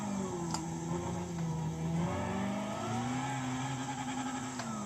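A racing car engine in Gran Turismo 5 revs smoothly and rises steadily in pitch. It sounds muted and fairly quiet, with no talk over it.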